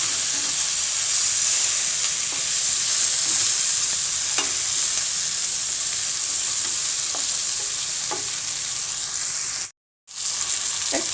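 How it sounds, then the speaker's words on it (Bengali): Fish head pieces fry in a pan for a Bengali fish-head ghonto, giving a steady, loud, close sizzle with occasional light stirring taps and a brief cut to silence near the end. "মাছগুলো এর সঙ্গে ভাজা ভাজা হবে।"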